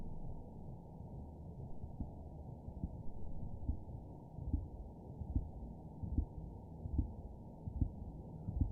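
A recording of whale vocalizations plays, a rudimentary song of low, muffled, rhythmic pulses like a slow heartbeat over a steady dull hum. The pulses repeat at a regular pace and no one speaks over them.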